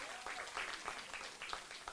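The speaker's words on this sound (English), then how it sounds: "Can we just give a round of applause as he takes the stage?" Faint, distant applause from a conference audience as a speaker takes the stage, a soft steady patter of clapping with a hint of voices underneath.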